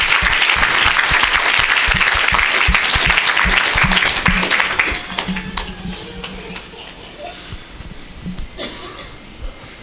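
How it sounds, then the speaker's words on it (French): A church congregation claps loudly and rapidly in unison for several seconds, then the clapping thins out into scattered claps, some light laughter and murmuring. "You can clap for the Lord."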